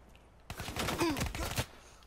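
Sniper rifle fire in Black Ops 3, a sharp burst of cracks and rattling impacts lasting about a second, fairly close and distinct against quiet surroundings.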